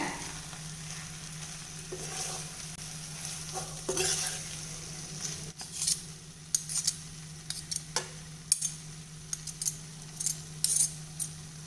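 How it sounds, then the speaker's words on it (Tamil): Whole brinjals stuffed with masala get stirred in an oily pan, with a soft background sizzle broken by scraping spatula strokes and metallic clinks that grow more frequent toward the end. "மறுபடியும் கீழேருந்து ஒரு பெரட்டி விட்டுருங்க"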